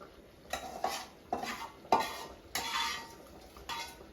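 Hot water stirred into a ghee-coated pan while cooking soya chunks biryani: a series of scraping, clinking stirs with a faint sizzle, spaced strokes at close range, no talking.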